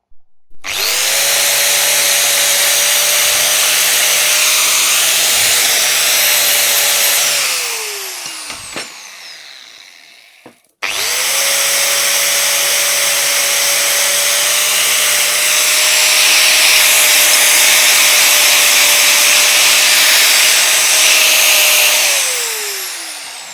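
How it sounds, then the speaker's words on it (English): A power drill whines loudly and steadily, boring half-inch holes through metal for a 1927 BSA motorcycle rear stand in two long bursts, each winding down briefly before stopping, with a short pause between them. "Going to drill a hole and go from there"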